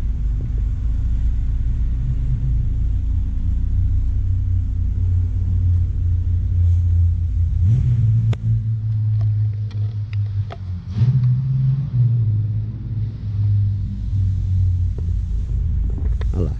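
Car pulling out of a parallel parking spot during a driving-school practice session, a steady low engine rumble that swells briefly as the car moves off, with a few light clicks over it.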